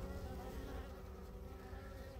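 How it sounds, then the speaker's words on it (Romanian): Honeybees from freshly opened hives buzz in a steady, low, faint drone on a mild winter day, continuous with no voices. "Albinuțele aduc polen"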